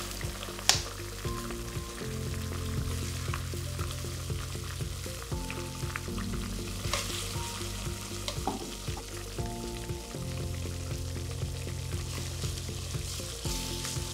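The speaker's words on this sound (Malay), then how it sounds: "Okey, ni first time Cik Noh nak cuba masuk cili paste Thai jenama Mae Pranom ni." Mae Pranom brand Thai chili paste frying in a pan for Thai-style fried rice, a loud continuous sizzle with a few clinks and scrapes from stirring and no voices.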